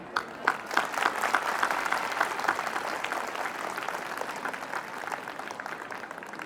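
Students and staff at a school assembly applaud steadily for several seconds, many hands clapping together with a few sharper claps standing out at the start, faint crowd murmur underneath.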